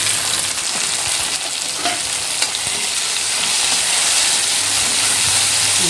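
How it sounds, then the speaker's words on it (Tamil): Onions and tomatoes sauté in a pan for a home-cooked Tamil greens and vegetable meal, a steady close sizzle and frying hiss running unbroken, with faint stirring scrapes and no talk. "தக்காளி வெங்காயம் வதங்கிட்டோம்."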